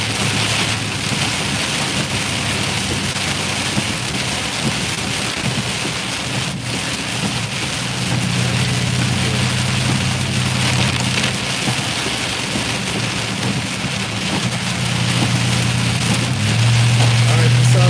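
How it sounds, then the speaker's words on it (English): Heavy rain pouring steadily during a Florida storm chase, a loud constant roar of drops on surfaces, with low rumbling tones and occasional voices underneath. "Rain is good."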